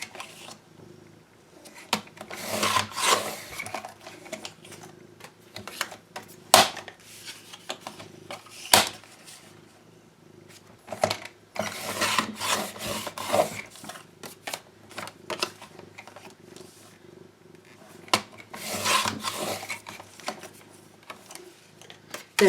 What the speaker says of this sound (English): While I'm cutting photo mats, I will do several.